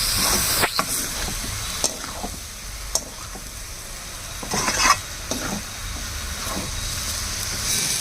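Fish and grated coconut fry in a pan over medium flame while a spoon stirs them, giving a steady close sizzle broken by several sharp scrapes and clatters against the pan.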